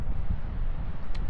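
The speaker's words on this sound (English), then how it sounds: "So it is windy enough to blow a camera over on a tripod." Strong wind buffeting an Insta360 X4 camera microphone outdoors on a tripod, a constant heavy low rumble with gusty fluttering throughout.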